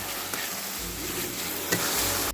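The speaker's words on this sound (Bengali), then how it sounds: "এবার আবারও খুব ভালো করে সব মশলাগুলোকে ভেজে নিতে হবে" Ground spices and puréed tomato paste fry in hot oil for chicken kasha, giving a steady, close sizzle with brief scraping stirs and no voices.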